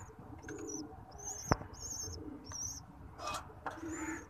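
Soft, repeated cooing of pigeons at a distance, with a few faint chirps and a sharp click in the middle against quiet background noise.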